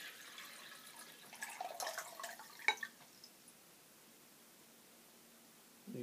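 Beer pours into a pint glass in a British pub setting, a brief frothy splashing rush that rises, ends in a sharp clink, and leaves quiet room tone.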